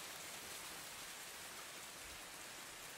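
Steady rain beating down outdoors, a dense even hiss of drops with no breaks, constant and fairly faint throughout.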